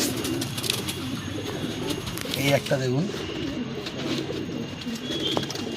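Pet pigeons coo in their loft, a soft, rolling, rhythmic burble rising close by midway, while someone speaks briefly over the surrounding murmur.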